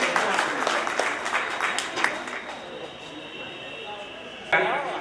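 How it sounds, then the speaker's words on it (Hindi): An audience at a rural Jain community meeting claps to welcome the general secretary, a moderate wash of applause that thins out over several seconds, with a voice heard over it toward the end. "ग्रामीण अंचल के द्वारा महामंत्री का बहुत स्वागत, जोरदार तालियों के स्वागत होना चाहिए।"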